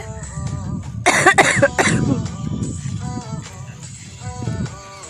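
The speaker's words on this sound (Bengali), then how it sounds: "শরীর খুব একটা ভালো নেই কাশি হচ্ছে" A close burst of several harsh coughs, quickly repeated, outdoors in a field in the morning, then quieter background with faint voice-like sounds.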